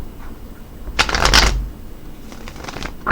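Crystal Vision tarot cards being shuffled, a loud riffling burst of card flicks near the mic, then softer shuffling toward the end, with no talk.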